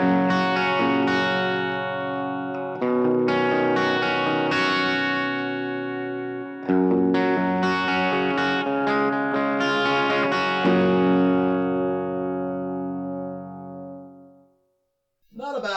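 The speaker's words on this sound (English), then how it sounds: "I have a clean sound already set up like this" Electric guitar through a NUX Mighty Lite BT practice amp, set to a clean tone with a touch of gain and room reverb: chords ring out and sustain in several phrases, then fade to near silence before a brief final strum.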